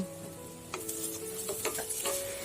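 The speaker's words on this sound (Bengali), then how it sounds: "পেঁয়াজ রসুন তেলের সাথে আরও 2 মিনিটের মতো ভেজে নিচ্ছি" Onion and garlic frying in oil for an ilish fish curry with ash gourd, a soft steady sizzle with intermittent scraping stirs, fairly quiet and close, no voices.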